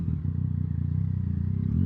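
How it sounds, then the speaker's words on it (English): Yamaha MT-09 motorcycle engine revving inside a tunnel, a loud, steady low-pitched growl with a throbbing pulse and reverberant echo, rising slightly toward the end. "you can't resist revving in a tunnel"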